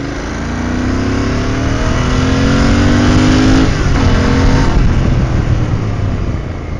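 A Royal Enfield Interceptor 650 motorcycle engine revs hard and close, its pitch climbing steadily under wide-open throttle before easing back, with no talk over it.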